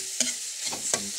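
Eggplant sautéed with hotdog and corned beef in a pan: a soft steady sizzle broken by two sharp scraping stirs of a utensil, close by, with no voices.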